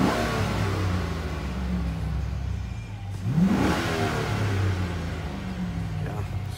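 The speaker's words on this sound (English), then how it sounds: "And give it a couple revs." A new 2006 Chevrolet Silverado truck engine revs once over a steady idle rumble, the pitch rising and falling midway, heard nearby with no talk.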